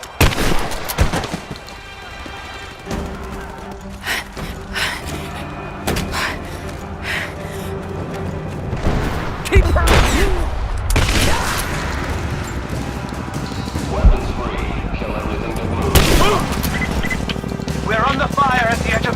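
Gunfire in Rise of the Tomb Raider as a village edge comes under attack, with loud scattered shots, crashes and impacts over a dense, noisy background while characters speak throughout.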